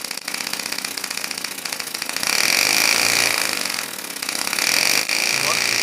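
A homemade air-powered piston engine spinning up, a fast mechanical buzzing rattle that rises in pitch and loudness after a couple of seconds and holds steady, close by, with a brief dip near the end.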